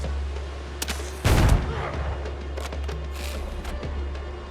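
Gunfire in the pirate video game Windrose: one loud, sharp shot with a booming tail, surrounded by lighter cracks over a steady low hum, with no talking.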